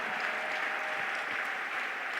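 Congregation at a French-language church service applauding to acclaim the Lord, a dense, steady wash of clapping from many hands that continues without break, with no talk over it.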